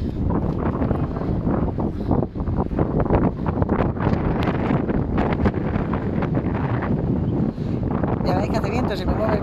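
Strong wind buffets a microphone on a coastal cliff at Arrecife de las Sirenas, a loud, continuous roaring rush with gusty surges throughout.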